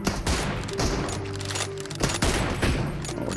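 Rapid bursts of gunfire in a PUBG mobile match featuring an M24 sniper rifle, dense overlapping shots and cracks filling the whole stretch, loud and continuous with no talk.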